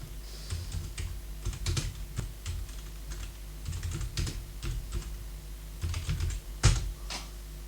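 Bursts of computer keyboard typing while entering Ubuntu terminal commands, close and clear, with irregular clusters of keystrokes and short pauses between words, no voices.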